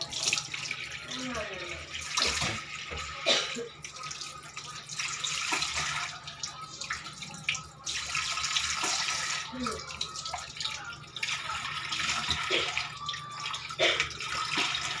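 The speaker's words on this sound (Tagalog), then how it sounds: "Masasayang yung tubig." Tap water running into a sink while a child rinses out toothpaste, a steady splashing stream with intermittent gurgles and changes in flow, and an adult speaking over it.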